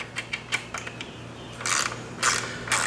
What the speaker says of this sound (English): going to put our 1/4 inch wrench on it and we're going to loosen it 4 turns